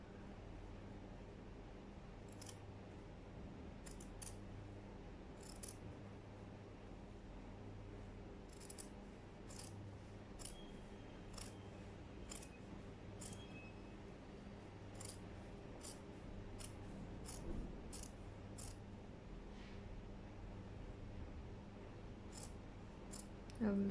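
Scissors cut fabric for sewing seams, a long run of quiet snipping strokes in irregular clusters over a low steady background hum, close but faint, no talk.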